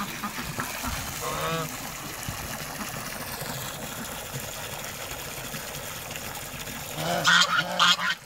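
Ducks at a village pool being filled with water, honking and quacking in a short loud burst near the end over a constant rushing water wash, with faint voices early on.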